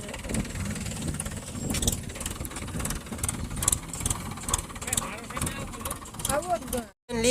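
A tractor engine runs steadily on a farm field, a continuous close mechanical rumble with rattling knocks, while people talk over it.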